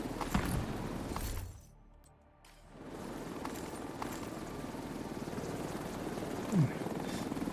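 A helicopter in a video game thrums steadily and loudly throughout, dropping briefly for about a second before resuming at full level.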